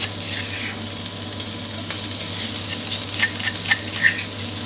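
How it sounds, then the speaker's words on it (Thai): Pounded chili, garlic and fingerroot paste sizzles in a wok of hot oil for a Thai-style spaghetti, a steady frying hiss with a few sharper crackles and pops toward the end. "พอกระทะน้ำมันเริ่มที่จะร้อนครับก็เครื่องที่เราโขลกไว้นะครับพริกกระเทียมกระชายครับใส่ลงไปได้เลยนะ"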